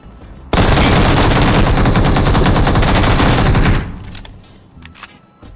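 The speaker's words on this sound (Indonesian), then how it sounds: "Dan di sini ada nih yang nembak dari jauh nih" Sustained loud automatic gunfire rattles in a PUBG Mobile match, a dense burst lasting about three seconds before cutting off, followed by quieter scattered sounds.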